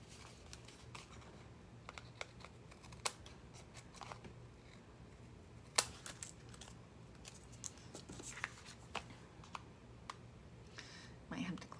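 Crisp, repeated snips of scissors cutting paper, irregular and close, with faint rustling between cuts.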